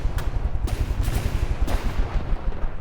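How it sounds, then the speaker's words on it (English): Heavy ship cannons in From the Depths fire shells, a few sharp booms near 0.2, 0.7, 1.0 and 1.7 seconds over a constant low engine rumble and rolling battle noise, with no talk. "Then why was it firing its shells when it couldn't hit me?"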